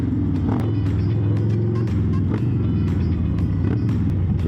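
Loud Harley motorcycle engine while riding, a continuous deep throbbing rumble with steady low pulsing and wind roar, close and without pause, no talk.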